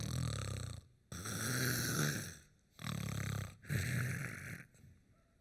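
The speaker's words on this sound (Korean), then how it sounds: "He was snoring." A man snores steadily while asleep, four long, loud, rasping snores in a slow rhythm, each followed by a short gap of silence.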